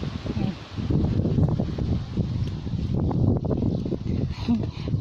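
Strong wind buffets an outdoor microphone in a raspberry patch, a steady loud rustling roar that swells and dips throughout, with a person talking over it.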